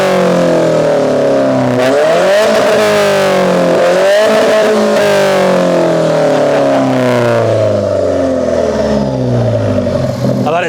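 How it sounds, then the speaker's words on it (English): Alfa Romeo 4C four-cylinder engine revved hard while stationary, loud and close, with repeated rising and falling sweeps before the revs die back down to idle near the end. "let's hear the 4C rev up."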